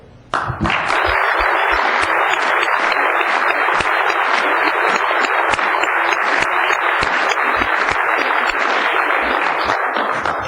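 A council chamber audience in Thousand Oaks applauds two newly elected council members with a sustained, loud round of clapping that fills the room evenly for about ten seconds.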